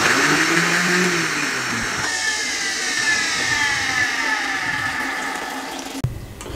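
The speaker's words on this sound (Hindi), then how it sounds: "ये मैं सारी दही इस तरीके से ग्राइंड कर लूँ" An electric blender runs steadily, loud and close, grinding yogurt for dahi bhalla, with its whining motor pitch shifting as the load changes before a sharp knock near the end.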